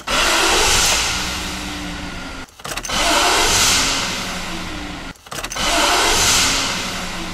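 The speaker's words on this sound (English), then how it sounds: "I'm gonna start the vehicle a couple of times" A car engine cranked by its starter motor three times in a row, each a few seconds of steady whirring turnover with brief pauses between, loud and close.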